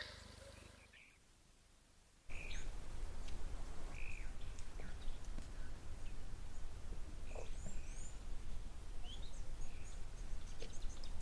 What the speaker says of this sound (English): it sounds like it's feeding time at Victoria Falls. Let's go and watch the vulture chaos.